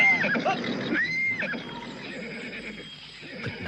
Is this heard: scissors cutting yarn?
no